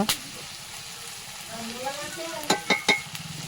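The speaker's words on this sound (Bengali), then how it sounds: "পেঁয়াজটাকে ভালো করে তেলের মধ্যে ভেজে নিয়ে সেখানে ভাজা হচ্ছে দেখতে পাচ্ছ" Steady sizzle of onions frying in oil, with a few sharp clinks of a utensil stirring in the pan near the end, and faint speech-like tones underneath.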